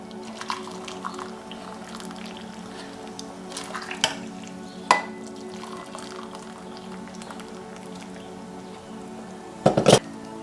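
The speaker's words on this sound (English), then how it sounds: "I'm going to add 4 to 6 cups of boiling hot water and allow that to cook" Boiling hot water is poured into a pot of rinsed black beans, a continuous low liquid rush with soft drips and a few brief clatters, heard close with no talking.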